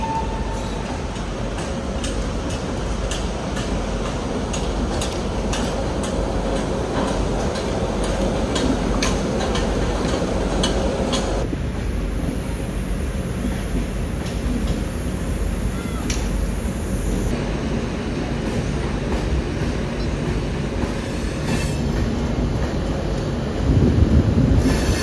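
The Udyan Express passes near Pune on the Central Railway, a steady close rumble of rolling coaches with rhythmic wheel clicks over rail joints and faint squeals, continuing unbroken for the whole stretch.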